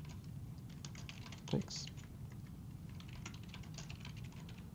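Typing on a computer keyboard, a steady run of quick light key clicks close by, with a short spoken word partway through.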